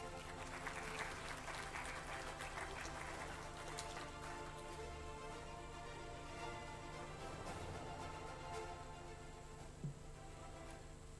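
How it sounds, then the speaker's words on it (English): Audience applause at an economics forum summit in India, a steady wash of clapping across the hall, continuous and fairly faint, with a low hum underneath. "Can we please have a huge round of applause?"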